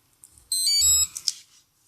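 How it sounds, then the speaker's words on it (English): An electronic speed controller in programming mode sounds a short electronic tone sequence once, a bright multi-pitched beep lasting about half a second, followed by a couple of faint chirps in quiet. "it beeps to let us know it's in programming mode"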